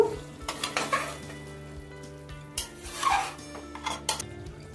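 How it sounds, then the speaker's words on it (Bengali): Marinated chicken sautéed in a pan for a home-style steam chicken curry, loud sizzling bursts with metal spatula scrapes and clinks against the pot, close up with no talk. "এবার এটা আমি পুরো কষাতে কষাতেই রান্না করব"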